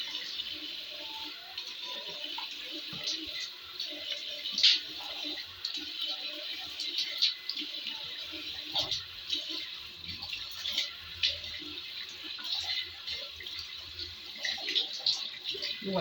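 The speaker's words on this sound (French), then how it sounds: "regardez, vous rincez immédiatement" Running water from a tap splashes faintly and irregularly as a face is rinsed, with small intermittent splashes over a steady low trickle.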